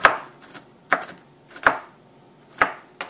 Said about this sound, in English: So I'm just going to give it a quick rough chop.